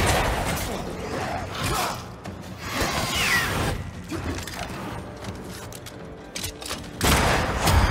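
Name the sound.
gunshots from a corpse enemy in Banishers: Ghosts of New Eden video game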